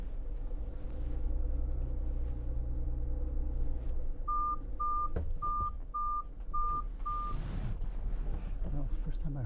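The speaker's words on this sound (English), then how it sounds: "first time I heard that cross traffic alert." A vehicle's cross traffic alert sounds while the van backs up, six short, evenly spaced electronic beeps over engine rumble, followed by a brief rustle.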